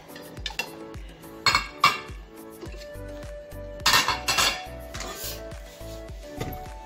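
Plates, bowls and cutlery clink and clatter as they are unloaded from a dishwasher and stacked, several sharp ringing knocks with short pauses between, nearby and without talk.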